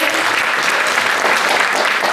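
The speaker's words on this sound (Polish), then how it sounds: "No jeszcze raz wielkie brawa dla naszego artysty" Steady, full audience applause at a music festival, dense and even clapping filling the whole stretch after a performer's accompanied set, fairly loud and close.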